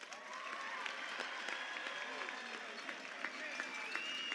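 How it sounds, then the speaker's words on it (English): Steady applause from a sizable audience at a high school graduation ceremony, continuous clapping at an even level throughout with scattered louder claps. "Please join me in giving the graduates one more round of applause."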